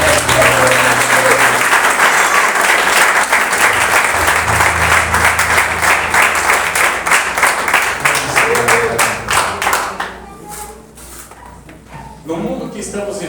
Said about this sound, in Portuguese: Se você quer vitória, dê uma boa salva de palmas para Deus.